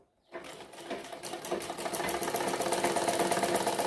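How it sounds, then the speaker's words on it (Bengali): A sewing machine starts up after a brief silence and stitches steadily along the marked line of a bra-cut blouse front piece, its fast mechanical whirr growing slightly louder and running on without speech. "দেখো এইভাবে রেখে দাগের উপরে উপরে মিলিয়ে মিলিয়ে আমি সেলাই করে দেব"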